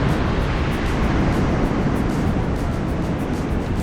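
Ocean waves surging onto an Australian beach during shore fishing, heard as a steady, loud wash of surf with wind noise, continuous and without talk.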